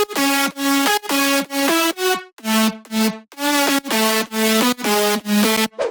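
Bright future house synth lead with effects: a loud, buzzy rhythmic phrase of short chopped notes with gliding pitch slides between some of them, played alone.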